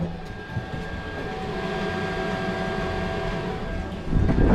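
An Autoterm Planar diesel heater runs aboard a boat, a steady droning hum with faint tonal whine, constant and moderately loud, swelling louder near the end.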